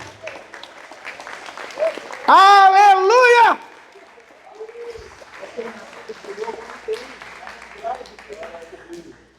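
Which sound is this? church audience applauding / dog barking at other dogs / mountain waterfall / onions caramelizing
church audience applauding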